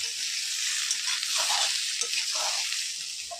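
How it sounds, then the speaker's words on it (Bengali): Steady hiss of potatoes frying with turmeric in hot oil, continuous and close, with faint scraping of a utensil now and then. "আলুগুলো লাল লাল করে ভেজে নিয়েছি,"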